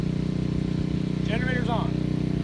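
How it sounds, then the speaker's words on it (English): A portable generator runs with a steady, even engine drone at a worksite during chain-link fence post installation, continuous and close, with a brief voice-like chirp in the middle. "First we'll start the generator."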